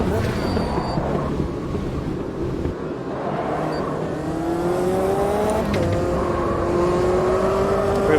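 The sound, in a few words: race car engine in Automobilista 2 racing video game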